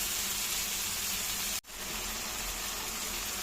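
Tomato spice paste fries steadily in a pan with a continuous broadband sizzle that stays close and even. It breaks off for a brief instant near the midpoint, then resumes.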